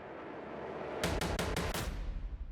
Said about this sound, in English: It gives that repeating trailer hit riser thing that before like the downbeat.